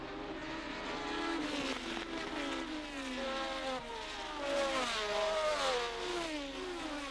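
1972 Formula 1 race cars, a Tyrrell and a McLaren, roar past on a racing lap, their high engine notes whining and shifting pitch in a steady, continuous stream of overlapping passes.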